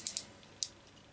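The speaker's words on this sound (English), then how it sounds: "Now to cut it. I use the carpet knife." A carpet knife slicing through leather for a belt loop: a few sharp, crisp cuts, two quick ones close together then a single later stroke, close up in an otherwise quiet room.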